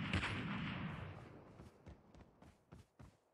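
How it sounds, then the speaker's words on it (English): Gunfire from a Call of Duty Mobile battle royale match, aimed at a tank, opens with a heavy booming blast that fades, followed by several fainter scattered shots. "Is he shooting the tank or is he trying to shoot me?"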